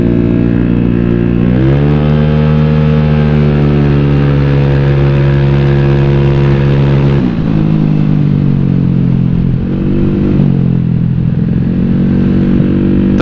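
A motorcycle engine with a loud, deep aftermarket exhaust and a retuned ECU idles and is revved, its pitch rising and falling in a few throttle blips, close up.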